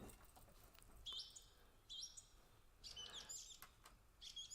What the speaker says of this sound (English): Hello, birds!